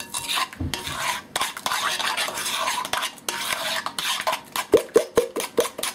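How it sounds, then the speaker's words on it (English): A spoon scrapes and stirs runny Yorkshire pudding batter in a bowl, continuous swishing that turns into quick rhythmic tapping strokes toward the end, close up. "It should be a light batter, and it should make that noise, that plopping noise."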